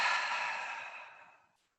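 A single long, deep exhale during a yoga session, breathy and close, fading steadily to silence over about a second and a half.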